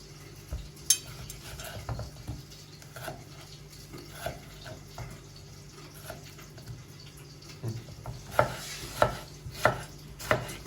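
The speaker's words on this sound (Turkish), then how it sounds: "maydanozumuzu da doğrayalım" A knife chopping parsley on a cutting board: scattered taps, then a quick run of sharp, close chops over a low background hum.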